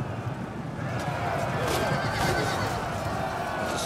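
Horses neigh and whinny amid a busy cavalry battle inside city walls in Rome 2 Total War, with steady clip-clop and clatter under constant battle noise and a voice talking over it.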